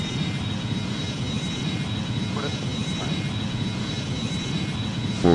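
An airliner lands on a flight from Riga to St Petersburg, with a steady roaring jet engine drone heard from inside the cabin, continuous and fairly loud, with faint tonal cockpit or voice sounds under it.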